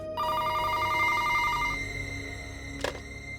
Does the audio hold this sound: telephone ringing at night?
yes